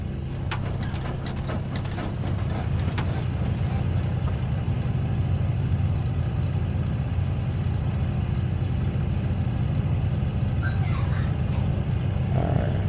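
Twin piston engines of a Beechcraft Baron starting up in a flight simulator, settling into a steady, loud, low rumbling idle with a rhythmic throb that continues without pause.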